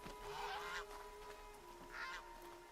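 Goose honking in the Horizon Zero Dawn video game, two faint nasal honks about a second and a half apart over a quiet steady background hum.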